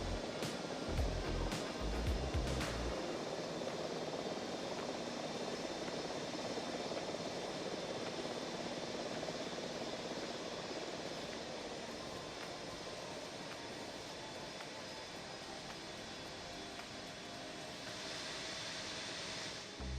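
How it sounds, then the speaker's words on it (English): Steady broadband rotor and engine roar from helicopters and other aircraft in the Microsoft Flight Simulator 2024 game, flying over Sequoia and Yosemite scenery, with a few low thumps early on and no talking. "Those helicopter sounds, those sounds from other aircraft are just getting weird"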